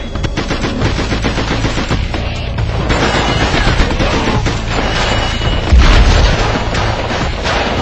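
Dense, continuous automatic gunfire from the SpyHunter: Nowhere to Run video game, with rapid loud bursts and booming impacts layered over a steady rumbling game soundtrack.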